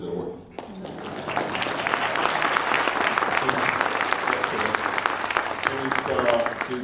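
Sustained audience applause at a city college discussion on Ebola, steady dense clapping from a sizeable crowd that rises after a brief start and continues loud throughout without a break.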